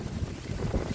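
Strong wind buffeting the microphone, a dense low rumble and roar that fills the brief moment without pause.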